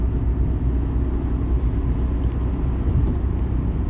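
Car interior road noise while driving, a steady low rumble and hum filling the cabin throughout, loud and continuous with no talking.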